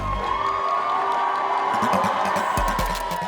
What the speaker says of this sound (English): the roar of the crowd builds with anticipation.